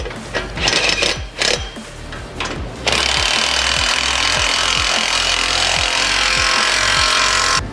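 Loud continuous impact wrench whirring and hammering as exhaust bolts on a Toyota Tacoma are driven down, preceded by a few short bursts and clunks before a steady sustained run.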